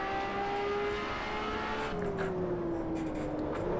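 Ferrari LaFerrari engine in Assetto Corsa at Spa Francorchamps, a loud continuous high-pitched drone holding steady and then dipping slightly in pitch as it shifts, with no talk over it.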